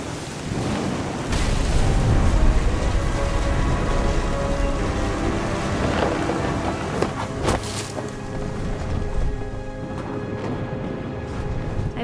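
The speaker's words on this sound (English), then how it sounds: "The thunder sounded much too close and full of angry power." A stormy downpour in the video game What Remains of Edith Finch, with dense steady rain and deep rumbling thunder rolling close by, a broad continuous roar with sharper cracks partway through.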